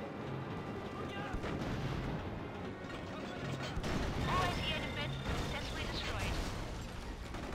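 Gunfire in the Mercenaries: Playground of Destruction video game: dense, steady rattling shots and heavy booms run throughout at a loud, constant level, with a brief louder burst near the middle and a voice speaking over the battle.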